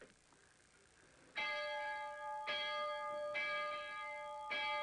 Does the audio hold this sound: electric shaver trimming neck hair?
no